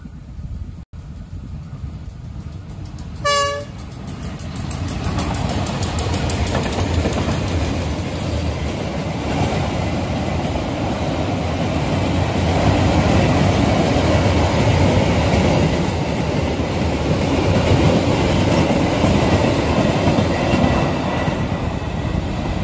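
Freight train hauling Pertamina fuel tankers rolls past loud and close, a steady rumble and clatter of wheels on rails lasting many seconds after a brief high horn-like tone near the start.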